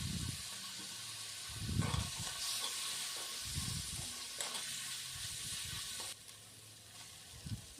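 Chicken frying in a pan for Indian-style macaroni pasta, giving a soft continuous sizzle with repeated bursts of stirring scrapes, fairly quiet and with no voices.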